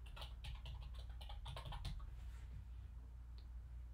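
Typing on a computer keyboard while setting up an iOS project, a quick run of close, crisp key clicks in short bursts for about two seconds, then stopping, with steady background hum and no talking.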